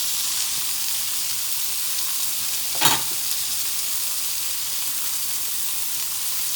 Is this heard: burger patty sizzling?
yes